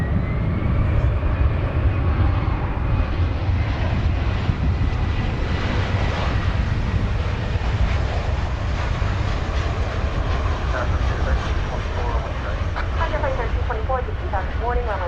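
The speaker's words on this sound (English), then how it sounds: "402, which originated in San Francisco, an Airbus A321." An American Airlines Airbus A321 arriving at DFW Airport, its broad engine roar steady and loud throughout, with faint voices now and then beneath it.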